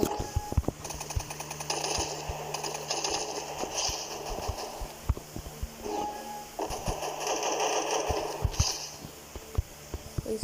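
Rapid gunfire from a weapon in the Free Fire Craftland shooting game, a dense stream of sharp shots and impacts over game noise, loud and continuous with brief pauses.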